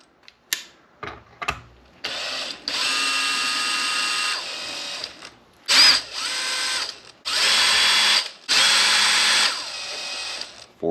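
Power driver loosening four ESC mount bolts on an upturned Arrma Big Rock 6s RC truck, heard close up as several steady whirring bursts with knocks and pauses between them.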